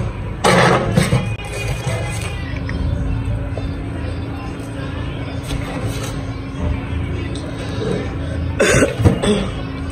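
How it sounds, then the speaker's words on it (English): Loud, close coughs come in bursts, one near the start and another cluster near the end, with a low steady hum and quieter noise in between. "Then I've been having cough"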